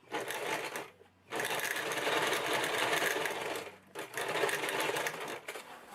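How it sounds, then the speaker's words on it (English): A sewing machine stitches binding onto a contour toilet rug, running in loud close bursts with two brief pauses where the motor stops before it starts again. "I'm just going to finish sewing it."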